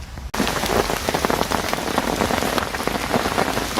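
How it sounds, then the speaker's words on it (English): Heavy rain pelts down on an estate fishing lake, a dense, close patter of drops hitting surfaces that starts abruptly after a brief gap and keeps up loud and steady. "the rain has certainly kicked in"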